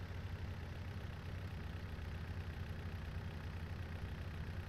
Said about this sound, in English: that Massey is definitely a good tractor